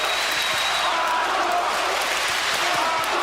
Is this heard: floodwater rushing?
no